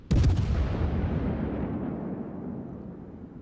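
A heavy warship gun salvo in World of Warships booms loudly at once, then rumbles and decays over several seconds with no talk.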